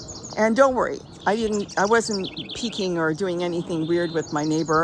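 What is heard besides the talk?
birds singing in front yard garden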